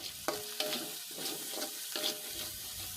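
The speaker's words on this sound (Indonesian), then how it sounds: "Kita tumis bumbu halus hingga harum ya guys, jangan sampai masih berbau anggur." Ground spice paste stir-fried in a pan for goat-head tongseng, a steady hiss of frying with scraping stirs recurring roughly every half second, close and moderately loud with no talking.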